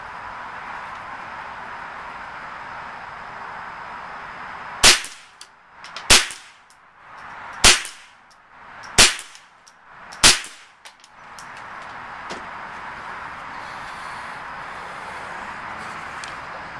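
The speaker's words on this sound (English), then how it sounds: "it's firing subsonic ammunition" Five sharp shots from a custom Ruger 10/22 rifle firing subsonic ammunition, spaced about a second and a half apart, each a crisp close crack with a short metallic clang, over a soft steady background hum.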